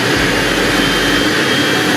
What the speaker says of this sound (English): You may be startled by the sound of this engine.